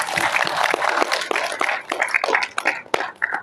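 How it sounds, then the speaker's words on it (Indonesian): An audience at an academic maritime history seminar claps together, a dense burst of applause lasting a few seconds before fading out. "Tepuk tangan."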